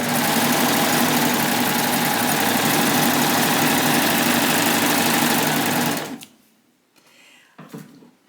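A serger sewing machine runs steadily for about six seconds, stitching down a seam of boatneck fabric strips, its loud, even whirring hum then cutting off into quiet with a few faint handling noises.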